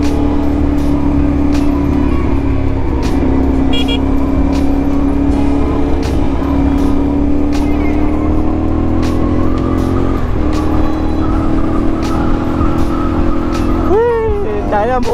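A Kawasaki Z900 motorcycle with a breadbox-delete exhaust idles and revs loudly up close, its engine note climbing in pitch with sharp rising surges near the end.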